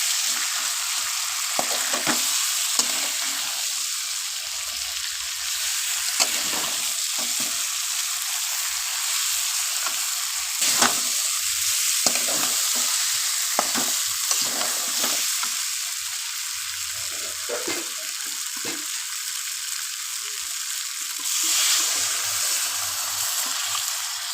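Mutton coated in spice masala sizzles and fries in a pan while a spoon scrapes and stirs it, producing scattered clicks and scrapes over a constant hiss, close and fairly loud with no talking.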